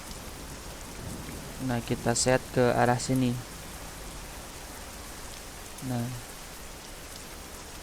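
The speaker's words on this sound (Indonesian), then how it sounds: "Nah, masih hujan ya teman-teman." Steady rain falls in Euro Truck Simulator 2 on a village road near Brebes, a constant even hiss running throughout while someone talks briefly over it.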